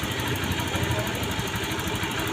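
A Honda Beat scooter engine idling steadily at about 1500 RPM during a workshop check, a close, continuous low chugging hum with no pauses.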